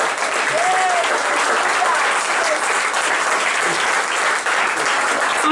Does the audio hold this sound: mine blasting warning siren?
no